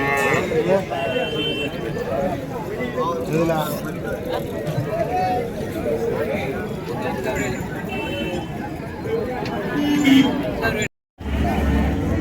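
Jersey calf and other cattle at a busy open-air cattle market in Matrapalli, occasional lowing under constant crowd chatter and people talking nearby.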